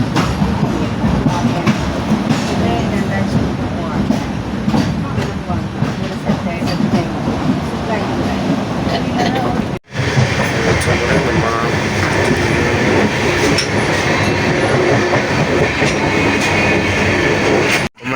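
Inside a moving passenger train travelling from Ernakulam towards Beemapally, a loud continuous rumble of wheels on rails with clattering rhythm throughout, and voices talking over the noise.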